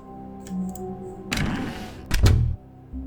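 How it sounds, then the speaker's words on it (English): A door in The Stanley Parable video game swings and shuts with a solid thunk and a short rattling slam, preceded by faint ticks and a quiet tonal hum. "Let's shut this door too, just to be safe."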